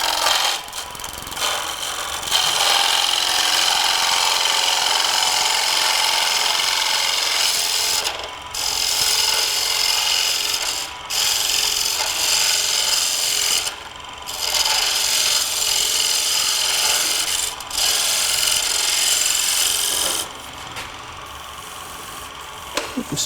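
A wood lathe turns Baltic Birch plywood against a dulling gouge in a workshop, giving a loud, continuous scraping rasp in long runs broken by several brief pauses, close and with no talk.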